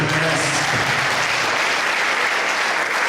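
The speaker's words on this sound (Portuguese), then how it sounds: "você pode aplaudir mais forte, porque merece." Church congregation claps loudly during a worship service, a dense, continuous wash of applause close and even throughout, with a brief murmur of voices at the start.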